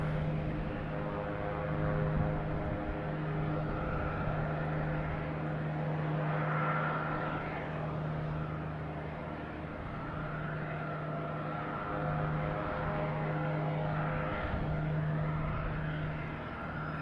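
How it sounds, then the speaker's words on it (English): An American Airlines Embraer E175 jet at Boston Logan airport hums with a steady, moderately distant engine drone that holds a low tone throughout, with no talk. "American Airlines heading to Philadelphia, E175, flight 4798."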